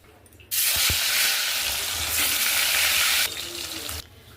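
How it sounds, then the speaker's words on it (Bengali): Catla fish hits hot oil and ghee in a salted pan and bursts into a loud, dense sizzle that holds for a few seconds, then drops back to a quieter crackle, with no voices. "সমস্ত মাছগুলো আমি ভেজে তুলে রেখেছি"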